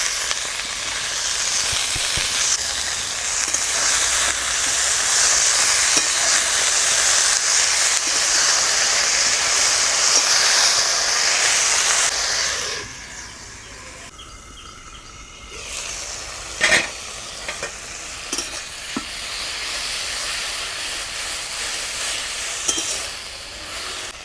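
Gima greens tossed into hot mustard oil with fried eggplant give a loud, steady sizzle and hiss with scraping stirs, briefly dropping quieter midway before the frying and occasional clinks resume.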